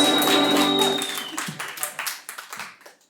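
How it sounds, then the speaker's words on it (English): A comedy club audience applauds as a comic is introduced, starting under a loud swell of music that fades, then thinning to scattered, uneven claps near the end. "Keep it going for the show. Clap for them,"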